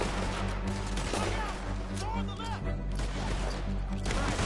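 Gunfire in the Red Dead Redemption video game, a dense continuous barrage of shots mixed with music and game effects, loud and steady throughout with a voice underneath.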